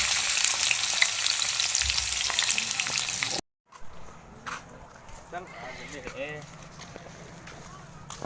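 Chana dal and golden brown onions fry in a pan with a loud, busy sizzle. After a sudden cut, the frying continues more quietly while a person talks over it.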